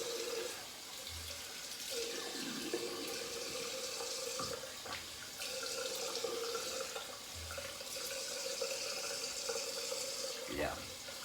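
A tap runs steadily into a sink during a shave, a continuous splashing hiss with shifting flow and a few clunks, while someone talks faintly in the background.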